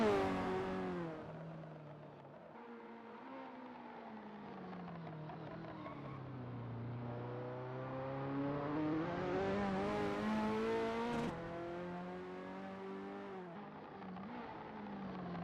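Ferrari F40 race car engines at Road America in a racing game hum and rise in pitch as a car accelerates through gears, a steady mid-distance drone with one sharp shift near the end, no talk.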